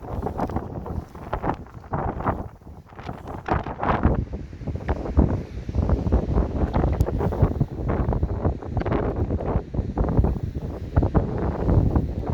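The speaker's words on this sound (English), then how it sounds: "So I'll give you a rough idea how windy it is out there." Strong storm gusts buffet the microphone in loud, rumbling bursts, continuous and close, with no voices, while bass fishing on the shore at New Brighton.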